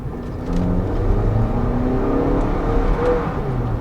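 A 2022 Lexus NX 350 AWD with a turbocharged engine, a low steady hum rising gently as it revs, fairly quiet and smooth throughout.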